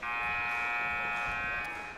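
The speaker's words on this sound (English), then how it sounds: "Here is your buzzer." A basketball game buzzer sounds in a single steady, loud electronic tone for about two seconds, marking the start of the fourth quarter of a boys varsity game between Assumption and Mt. Vernon.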